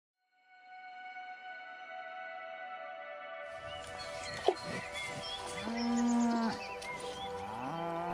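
Cattle in drought-stricken Nigeria mooing, a long, loud, drawn-out low call with sustained harmonic tones that rises and shifts near the end, over steady background noise.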